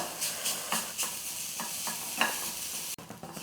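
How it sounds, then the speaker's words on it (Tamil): Grated coconut dry-roasted in a pan for idli podi, rhythmic spoon scrapes and stirring strokes over a faint steady sizzle, close and moderately loud, with no talking. "ஒரு கால் கப்பு வந்து துருவின தேங்காய் அதையும் சேர்த்து ஈரம் இல்லாமல் வறுத்து எடுத்துக்கலாம்"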